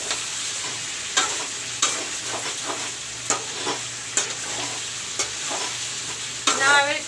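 Parwal (pointed gourd) bhujiya fries in an open pan with a constant moderate sizzle. Sharp scraping stirs break in about every second, and the sizzle flares briefly near the end.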